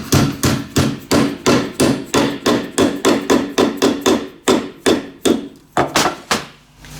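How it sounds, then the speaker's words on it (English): A soft mallet strikes brass stock clamped in a vise, bending it into shape with about twenty steady, evenly spaced blows that slow slightly toward the end, loud and close. "I'm just going to bend this around with a soft mallet."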